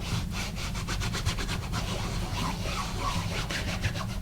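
Memento Tuxedo Black ink pad rubbed repeatedly across a rubber stamp, a close, steady scratchy rasping with quick back-and-forth strokes and no talking.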